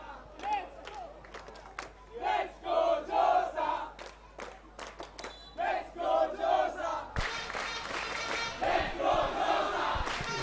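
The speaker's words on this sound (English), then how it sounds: "The Josephian crowd finally finding its voice." A school rugby crowd at a boys' final between St. Joseph's College and Royal College in Colombo chants and shouts in rhythmic bursts, with scattered sharp claps. A louder surge of cheering swells near the end.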